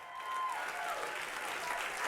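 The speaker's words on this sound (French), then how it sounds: "Allez, on l'applaudit bien fort." Steady audience applause in a studio setting, a dense, even wash of many hands clapping, moderately quiet and continuous throughout.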